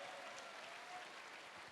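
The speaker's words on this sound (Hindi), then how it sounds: "मैं चाहूंगा एक बार जोरदार तालियां होनी चाहिए सर के लिए" An audience at a stage event in Varanasi claps for an honoured guest, a steady dense patter of applause that stays fairly faint and even throughout.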